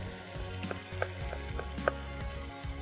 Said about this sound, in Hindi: अब इसकी खूब अच्छे से हमने करनी है भुनाई